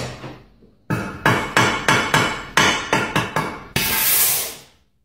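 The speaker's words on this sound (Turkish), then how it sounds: "Buradan çekiçle kıracağım." Nine sharp, evenly spaced hammer blows strike the glass of a television picture tube, ending in a loud, sustained hiss as air rushes in.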